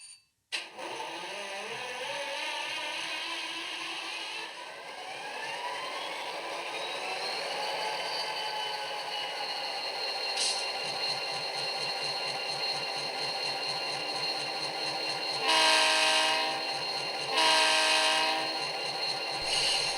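An HO scale Athearn Genesis GP39-2 model diesel locomotive running with DCC sound gives a steady, loud engine drone that ramps up in pitch, with two bursts of horn near the end.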